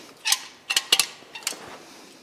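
Clutch part on a 2007 Hyundai Tiburon SE with a beveled edge clipping into its socket: a few short plastic-and-metal clicks and snaps close by, spaced irregularly over two seconds, with no talking.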